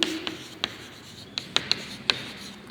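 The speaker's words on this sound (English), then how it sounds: "let me write the examples here so that you can make out easily" Chalk or marker scratches and taps on a board as examples are written out, giving short irregular strokes and clicks. They are close and fairly quiet, with no talking.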